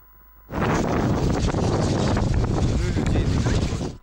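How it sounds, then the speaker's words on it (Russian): A strong wind suddenly roars in at an outdoor celebration, loud and continuous, buffeting the microphone with heavy rumbling gusts. "Сильный ветер празднику не помеха."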